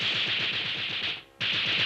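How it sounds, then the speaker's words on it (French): A loud, rapid burst of cartoon rifle fire rattles steadily, cuts out for a brief moment, then resumes just as loud. "des coups de fusil"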